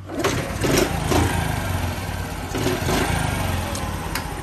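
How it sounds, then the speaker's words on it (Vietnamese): A Honda Cub motorbike fitted with a Thai-style aftermarket exhaust starts and settles into a loud, close idle with a steady chugging pulse that swells in a few surges. "Mình sẽ nổ máy lên."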